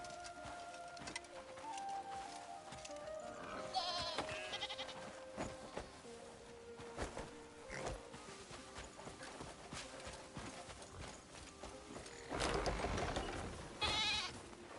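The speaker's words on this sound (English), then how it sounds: "A goat. Female goat. Female goat. A sheep. Goat." Goats and sheep in a video game: soft bleats and hoof clip-clops mix with game chimes and effects, quiet and fairly steady, with a couple of louder bleating bursts near the end.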